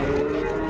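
A cow at a village cattle market lets out one short, loud moo close by, a tonal lowing call under a second long.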